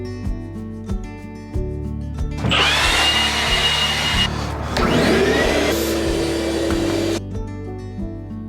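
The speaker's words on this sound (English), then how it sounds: "I just vacuumed it with shop vac" A shop vac switches on and roars steadily while vacuuming out a trailer, its whine shifting as the nozzle moves and sucks up debris, briefly dipping before running on and then shutting off, close and loud.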